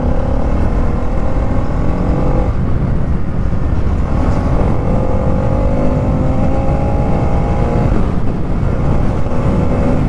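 A 2024 Bajaj Pulsar NS 200 motorcycle engine runs loud and close while riding, a continuous drone with rising and falling rev sweeps as it accelerates, with heavy wind rush.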